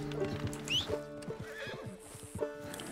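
A horse in Red Dead Redemption 2 gives a shrill, close neigh over a few quick hoof clops, with soft game ambience beneath.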